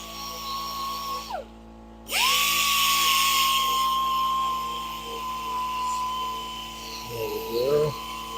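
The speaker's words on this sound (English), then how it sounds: "I'm going to do a little bit of sanding on the corners to make sure it lines up." A spinning woodturning lathe whines with a steady high tone while the corners of the turned piece are sanded, the pitch dropping and returning as it slows and restarts, and a voice speaks briefly near the end.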